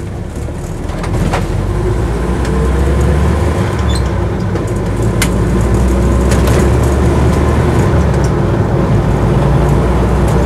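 A Land Rover Series 1 86-inch soft-top pulls away in second gear, its engine a loud, steady droning rumble heard from inside the cab, with road noise throughout and no talking.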